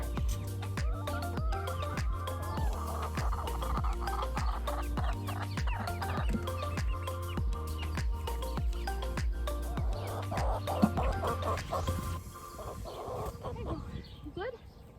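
Backyard chickens cluck repeatedly at close range as the flock meets newly added birds, with a person talking over the steady clucking throughout.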